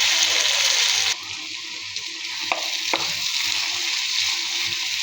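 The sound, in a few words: beef tripe frying with cumin powder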